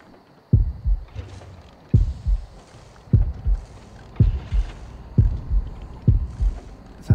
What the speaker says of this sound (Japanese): 心音がだんだん大きくなってきましたね